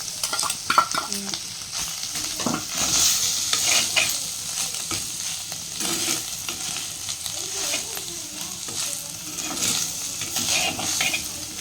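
Anchovy thoran sizzles in a frying pan while a spoon stirs it, steady frying hiss with repeated scraping and clinking against the pan.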